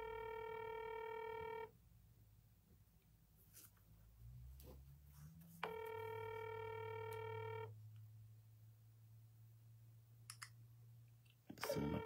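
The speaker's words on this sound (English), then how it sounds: "can I get Councilman Andre Knight on the phone?" A phone number is dialed, with two bursts of steady electronic tones separated by quieter clicking and handling noise, ending in a sharp click.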